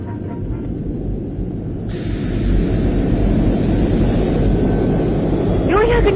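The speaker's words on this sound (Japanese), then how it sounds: "400人乗りの超速旅客機よ" A 400-seat super-fast passenger airliner roars steadily at close range, a broad jet-engine rush that swells louder partway through, with voices audible beneath the noise.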